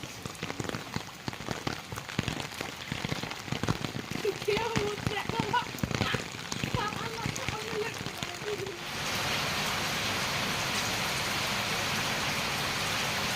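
Steady rain pattering on a surface, with scattered drops and voices talking early on, then a denser, even rush of rainfall.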